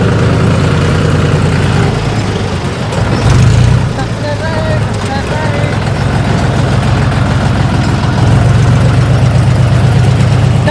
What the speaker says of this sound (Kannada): ಟ್ಯಾಕ್ಟ್ರಲ್ಲಿ ಫುಲ್ ರೈಡ್ ಹಂಗಿತ್ತು.